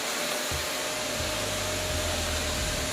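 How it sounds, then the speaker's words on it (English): A household vacuum cleaner runs close by, giving off a steady, loud motor whine and airy rush. The drone shifts slightly in pitch as it is moved, with no voices over it. "You want to help us vacuum? Go ahead. Turn it on."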